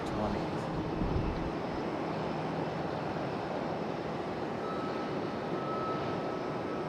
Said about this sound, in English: Sounds like our A220s.